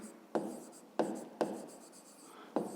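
A pen scratches across paper while numbers are written down for a school math exercise, making close, soft scribbling strokes that start with sharp attacks at an uneven rhythm.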